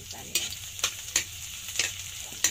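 Garlic and ginger frying in a pan, a soft continuous sizzle with several sharp scraping stirs spaced about half a second apart.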